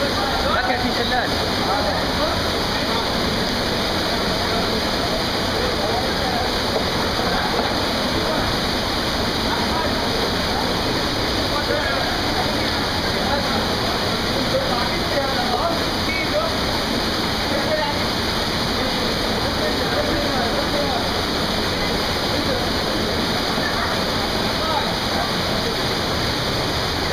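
Wadi Ibn Hammad waterfall roars constantly and loudly, a dense unbroken rush of falling water filling the whole stretch without pause.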